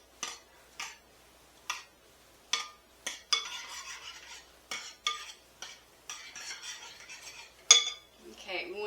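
Utensil scraping and clinking against a pot while stirring tuna noodle casserole mixture with added milk, in a series of short, separate strokes at close range, with no talk.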